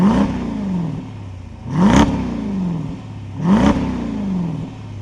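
A 2024 Dodge Durango SRT 392 with its naturally aspirated 6.4 liter V8 Hemi revs up twice, each sharp rising blip snarling close and loud before dropping back to a lumpy idle.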